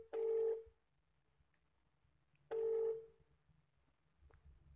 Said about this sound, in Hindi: तो फोन रिंग हो रहा है